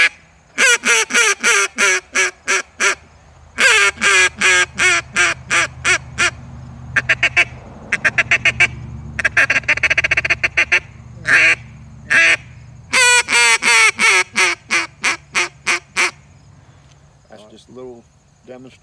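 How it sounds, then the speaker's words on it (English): A hunter blows goose and duck calls in rapid, loud bursts of honks and quacks, grouped in rhythmic runs with short pauses, close and clear with no talking. "Just a little demonstration on the goose call, duck call."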